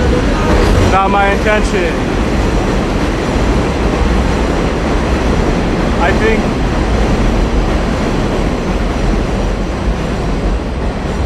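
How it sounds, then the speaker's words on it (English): Elevated subway train passing on the rail line over Roosevelt Avenue in Queens, a loud continuous rumble and rattle filling the whole stretch, with a person talking briefly underneath. "I think I just might be saved by the annoying train sounds"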